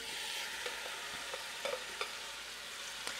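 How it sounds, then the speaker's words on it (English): Chicken sizzles in the hot pot of a slow cooker while a utensil stirs it, a soft continuous frying hiss broken by occasional scraping clicks, fairly quiet and with no talking. "we're sizzling away. So now we can add in our chicken."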